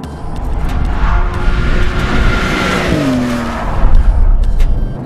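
Porsche 911 Turbo S engine and road roar under hard acceleration, loud and sustained, with a gear-change dip near three seconds and tire-and-wind noise throughout, no talk.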